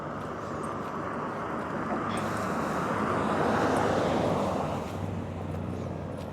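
A police helicopter's low, steady rotor rumble drones overhead at night, swelling slightly louder midway before easing off, with no voices.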